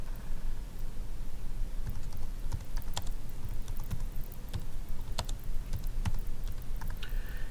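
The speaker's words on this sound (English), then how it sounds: "what I'm going to do is type a little bit more in here" Steady typing on a computer keyboard, with quick irregular key clicks and taps continuing throughout against a low background rumble, no speech.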